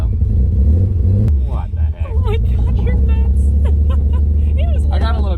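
The Green Hornet car's engine keeps running after a mild engine failure, a low steady rumble with a few revs, close and loud, while people talk over it.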